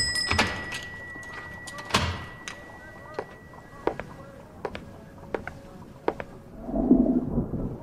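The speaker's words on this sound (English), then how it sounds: "Close the door." A door shuts in a radio-style drama of A Christmas Carol, heard as a series of thuds and knocks spread across the scene, with faint voices and room noise in the background.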